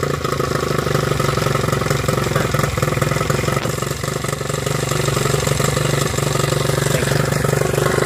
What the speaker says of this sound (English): We will start off by starting the motor.